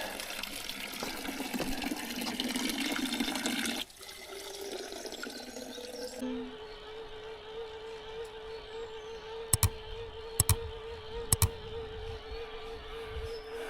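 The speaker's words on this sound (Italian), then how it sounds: "Adesso ci riempiamo la borraccia con dell'acqua buona di sorgente." Mountain spring water pours into a water bottle at dawn near Lago Scaffaiolo on the Gothic Line trail: a steady, close rushing flow for about four seconds, then a quieter trickle, a faint hum and a few sharp clicks.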